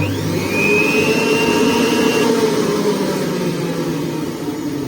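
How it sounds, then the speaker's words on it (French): A JUILIST 600W stainless steel blender running at its lowest speed, making a loud, steady motor whir and hum that holds constant throughout with no talk. "vous pouvez déjà entendre un petit peu le bruit qu'elle fait. Donc vitesse numéro 1."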